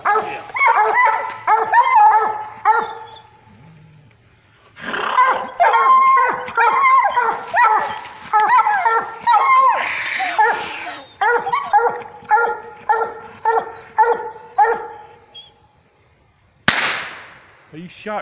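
Hunting dogs bay and bark loudly and continuously at an animal up a tree, in rapid overlapping bursts with short pauses, followed by a sudden sharp gunshot near the end.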